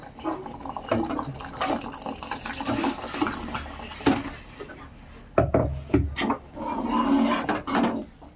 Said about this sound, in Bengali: এবার এখানে গরম পানি দিয়ে দেবো